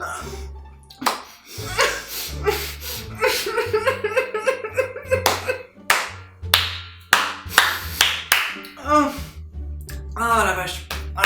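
One person claps hands in the kitchen while tasting Scooby-Doo themed snacks, bursts of close, sharp claps in quick runs mixed with laughter and excited chatter.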